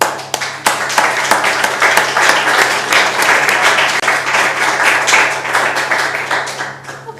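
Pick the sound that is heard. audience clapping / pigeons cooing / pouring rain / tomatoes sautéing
audience clapping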